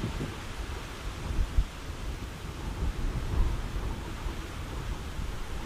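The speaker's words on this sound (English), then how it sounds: "on the northern horizon I could see this storm building up" Thunderstorm building on the horizon, a continuous broad rumbling wash with low swells and faint distant thunder rolls, steady and fairly loud throughout with no voices.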